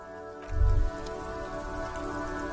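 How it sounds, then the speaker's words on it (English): Steady rain falls on the city of Rivershore in the Disco Elysium video game, a continuous hiss with a brief low thud early on. "All around you, rain falls on the great city of Rivershore."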